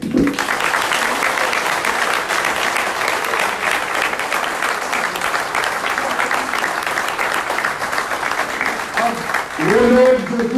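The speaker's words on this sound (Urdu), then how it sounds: "جن لوگوں نے حق حلال کے پیسے لگا کے یہ سب کو یقینی بنایا ہے ان کے لیے سب مل کر تالیاں" Sustained applause from a large audience at a political rally with a Pakistani PTI minister speaking, steady dense clapping throughout, with a voice rising near the end.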